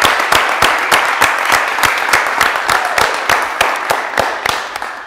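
A French TV game show studio audience claps in a steady, rhythmic beat, loud and full, with the crowd's claps landing together for the whole stretch.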